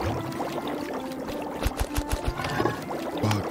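Water pours in the tavern-brewing video game Ale & Tale, a short run of splashy, gurgling pour sounds with a few soft thumps, heard fairly close over a quiet game background.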